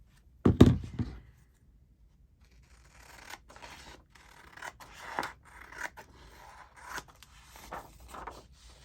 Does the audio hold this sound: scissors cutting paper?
yes